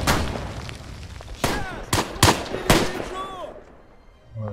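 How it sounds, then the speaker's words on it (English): Several loud explosive booms land in quick succession during a World War I battle in the video game Tannenberg, each a sharp broadband blast with a short rumbling tail, amid ongoing battlefield noise and a few thin whistling tones. "Another mortar strike."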